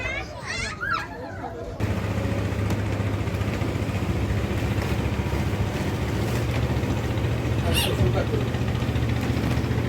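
A steady low engine drone runs throughout as a boat passes close by a houseboat, with children's voices and chatter over it near the start.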